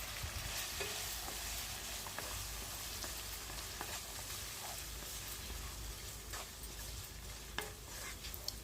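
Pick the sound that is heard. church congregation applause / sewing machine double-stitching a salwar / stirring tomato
stirring tomato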